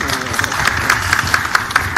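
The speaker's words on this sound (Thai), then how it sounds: "ถ้าจริงปรบมือดังๆครับ" Seminar audience in a hall clapping, with steady, dense applause throughout and regular sharper claps standing out over a murmur of voices.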